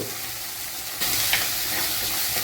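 Mustard seeds, fenugreek and onions sizzle in coconut oil, a steady frying hiss that jumps louder about a second in as more goes into the pan, with faint stirring and no voices.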